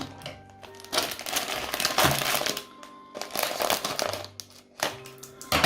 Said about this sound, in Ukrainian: Відрізаємо наш пакет, розрізаємо з насінням